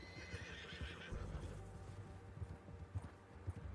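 A horse in the Red Dead Redemption 2 video game whinnies while hooves clip-clop in a quiet, uneven rhythm.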